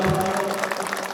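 Welcoming applause for a chief guest at a Border Security Force battalion Diwali gathering, a short burst of crowd clapping heard over a steady hum, with a faint voice underneath.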